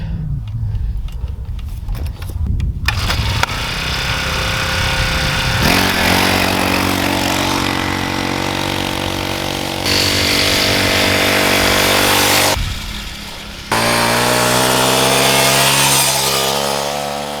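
A small DB003 mini bike engine buzzes loudly, revving up and down in bursts with high whining pitch changes, close by and continuous.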